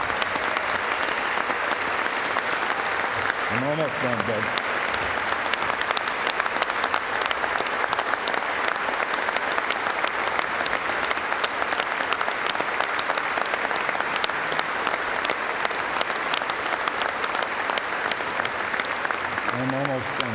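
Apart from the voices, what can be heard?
audience applause at induction dinner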